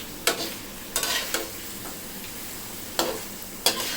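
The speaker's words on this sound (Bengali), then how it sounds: "হাইতে দিয়ে 4-5 মিনিটের মতো এটা আমি ভুনে নিব তেলের সাথে।" Mutton frying in hot oil on high heat, a steady sizzle broken by a handful of sharp scraping stirs at irregular intervals, heard close with no voices.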